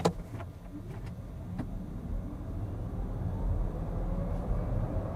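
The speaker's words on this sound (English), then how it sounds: "here we can also do acceleration, wet road, rear wheel drive, and we do 0 to 70 kilometers an hour." A rear-wheel-drive Volkswagen ID.4 electric SUV accelerates hard from 0 to 70 km/h on a wet road, heard from inside as a steady rising rumble of tyres and road noise, with no voices.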